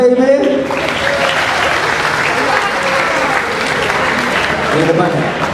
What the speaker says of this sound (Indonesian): tepuk tangan buat DPIB